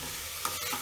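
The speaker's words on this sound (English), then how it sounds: "fry the rice for a minute on medium flame. Keep stirring." Soaked rice being stirred as it fries in a pressure cooker on a medium flame, a steady close sizzle with a few soft scraping strokes of the spoon.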